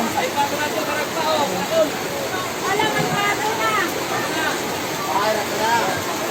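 A river swollen and overflowing after a full day of heavy typhoon rain in Bicol, its water rushing in a loud, steady roar that fills the whole clip, with a voice talking faintly underneath.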